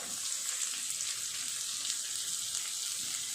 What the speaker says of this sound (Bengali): এগুলো খুব ভালো করে নেড়ে নেড়ে ভেজে নেব